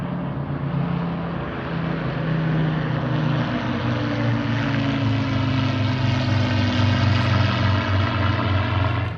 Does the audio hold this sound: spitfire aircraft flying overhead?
yes